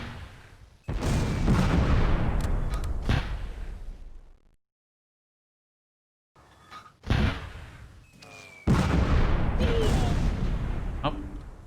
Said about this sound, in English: there was mortar right there